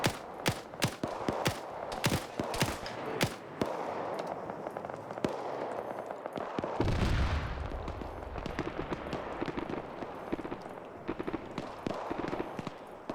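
Arma 3 game gunfire pops in rapid irregular bursts and single cracks at moderate distance, with a heavier boom around midway and continued scattered shots after.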